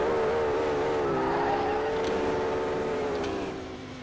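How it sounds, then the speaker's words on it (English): BMW engines in a racing video game roar continuously, their pitch rising and shifting as they rev, with the whole loud, steady drone fading slightly at the end. "I can't hear myself think for these BMW engines."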